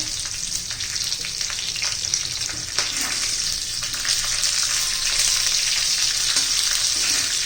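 Green chillies frying in hot oil with garlic, giving a continuous loud sizzling crackle with occasional stirring scrapes, close up and without speech.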